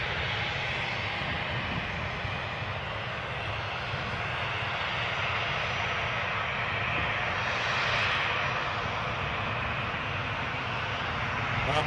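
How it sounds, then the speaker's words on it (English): TUI Airbus A320 airliner at Newcastle airport, a steady broad engine roar that holds close and fairly loud throughout, swelling slightly midway and near the end. "I wasn't anticipating this Airbus A320 entering the mix"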